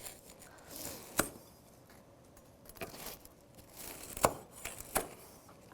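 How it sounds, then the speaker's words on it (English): A serrated knife saws through the crusty edges of focaccia bread, a few crisp crunching cuts spaced apart against quieter crackling. "using a serrated knife, I'm just gonna start by trimming off the edges"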